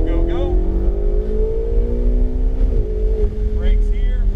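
A Ferrari 488 GTB engine revs hard under full throttle, a loud sustained rising drone with a brief dip mid-way as it keeps pulling, while a voice talks over it.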